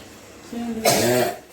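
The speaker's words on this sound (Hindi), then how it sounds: "पूरा घर में सबका ना खांसी का ही आवाज सुनाई दे रहा है" A couple of harsh coughs close by, preceded by a brief vocal sound, loud and abrupt.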